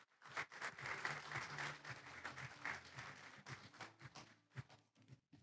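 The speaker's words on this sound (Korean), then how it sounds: "큰 박수 부탁드립니다." An audience at a 5G V2X technology showcase in Korea applauds continuously to welcome a speaker, and the clapping stays full for several seconds before tapering off at the end.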